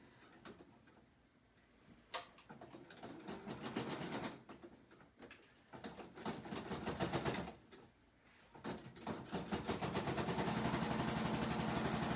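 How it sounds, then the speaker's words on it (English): A sewing machine stitches through thick layered material in bursts, its rapid needle clatter speeding up and stopping several times, close and fairly loud, with short pauses between stitches. "we'll see how my sewing machine likes this thick, all this thick layering"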